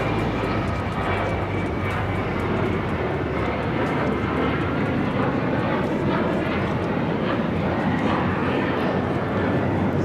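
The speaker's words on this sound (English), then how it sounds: "taking off to Seattle on the 737-900ER" Alaska Airlines Boeing 737-900ER taking off at LAX, a steady, loud jet engine roar that fills the whole stretch with little change, no voices over it.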